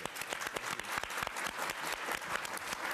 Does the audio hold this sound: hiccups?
no